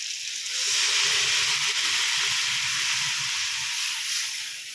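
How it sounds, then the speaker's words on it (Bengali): Water poured onto hot, well-fried spice masala for a papad curry sends up a loud, rushing burst of steam and hiss that holds steady for several seconds before easing slightly, close by and with no voices. "আমার কষানো হয়ে গেছে এর মধ্যে দিয়ে দিব জল"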